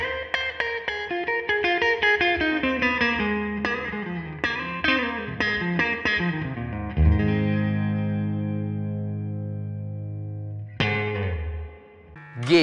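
A clean electric guitar tone from a review of the Nux Steel Singer overdrive pedal, recorded through a Sennheiser E906 microphone and a Focusrite Scarlett 2i2, plays a run of picked notes and chords and then lets a final chord ring out.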